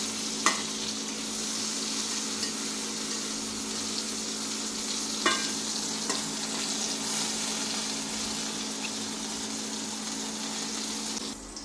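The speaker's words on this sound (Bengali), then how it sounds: "ভর্তা করার জন্য এগুলো সুন্দর করে লাল করে আমার ভেজে নিতে হবে" Eggplant slices fry in hot oil for bharta, giving a steady close sizzle with a few light clinks from the turning utensil and no talk.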